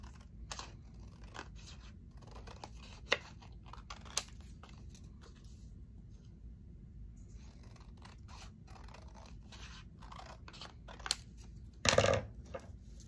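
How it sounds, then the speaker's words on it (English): Scissors trimming white paper borders for a mini folio craft, faint soft snips scattered over a quiet background, ending in a brief louder cut. "Let me just cut these white borders."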